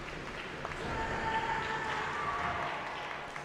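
A crowd at a weightlifting competition, the 2025 US Capitol Classics & China Open, applauds and cheers at a moderate distance; the noise swells in the middle, with a few whistle-like tones over the clapping.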